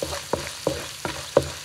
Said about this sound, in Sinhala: මේ විදිහට රම්පා කර්පිංච ටිකක් දාලා හොඳට සුවඳ එනකම් මේක හොඳට බදින්න.